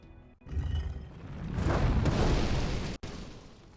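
Cannon fire in a video game, a loud booming explosive roar that swells and sustains for a few seconds, then cuts off abruptly, with no talk over it.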